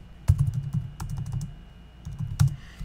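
Computer keyboard typing during a Tekkit Lite gaming session, a quick burst of clacking keystrokes followed by a pause and another cluster of taps, close and distinct, with no talking.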